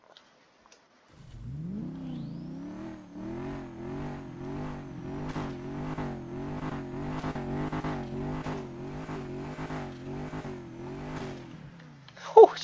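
A Fairmont car engine in the FiveM video game runs close by with a steady, pulsing rev for about ten seconds before cutting off, followed by a brief exclamation from a voice.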